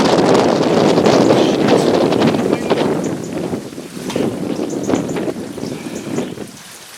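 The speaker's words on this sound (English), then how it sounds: "Sudden gust of wind there took me completely by surprise." A sudden strong gust of wind outdoors, where someone is painting flowers with acrylic inks at an easel, roars loudly and buffets the microphone, then eases off into a lighter, fluttering rush.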